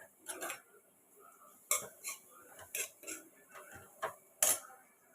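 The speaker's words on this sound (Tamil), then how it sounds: "இப்போ நம்ம சட்டி சூடாயிடுச்சு இப்போ நம்ம தேங்காய் திருவி வச்சதை இப்போ நம்ம இதோட சேர்த்துப்போம்" Grated coconut stirred in a hot pan for a rava coconut cake, heard as scattered utensil clinks and scrapes against the pan, a handful of sharp taps over a quiet kitchen background.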